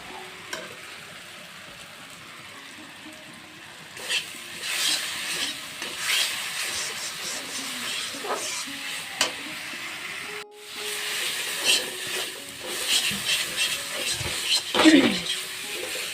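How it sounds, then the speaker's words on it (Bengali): Spice paste for taro greens sizzles and hisses softly in a pan, with intermittent stirring scrapes that swell and fade over a low steady fry. "মশলাটা অল্প সাঁতলিয়ে নেব ভালো করে।"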